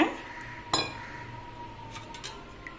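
Lemon juice being stirred into milk to make paneer at home, heard as a few sharp metallic clinks of a spoon against a vessel over faint background hum.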